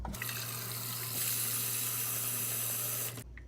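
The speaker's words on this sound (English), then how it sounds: "Dump out the hot water into the sink." Hot water poured from a pan into a kitchen sink, a steady close rushing splash for about three seconds that ends abruptly.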